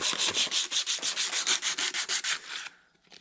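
Coarse sandpaper rubbed hard over a painted metal gear, about fourteen quick, even back-and-forth strokes close up, gritty and scratchy, then trailing off into a faint rasp.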